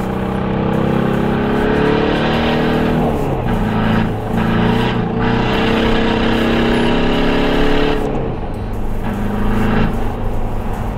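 Stanced VW TDI on 8-inch tires pulling out into traffic under gentle acceleration, a loud diesel engine note rising in pitch through gears with brief dips at shifts, close and continuous.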